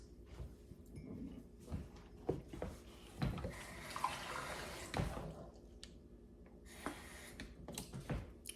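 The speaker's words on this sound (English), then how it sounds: "I'm going to put some more water in so that it can be yummy, yummy, and nice and moist." Water is poured into a baking dish of chicken and dressing casserole in a home kitchen, a quiet, soft trickling and splashing with a few faint knocks and clinks, no talking.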